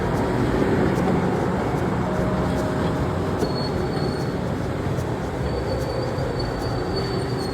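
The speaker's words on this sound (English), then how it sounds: "I heard the air brakes go off again. Yeah, you're leaving." A Metro-North Harlem Line electric multiple-unit train rolls past in a steady, loud rumble of wheels on rail. High metallic squeals from the wheels come and go near the middle and end.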